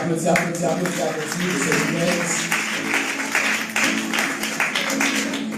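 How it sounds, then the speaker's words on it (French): Wedding guests clapping and applauding, with a crowd murmur and voices talking over the steady patter of hands. "Les gens applaudissent, applaudissent"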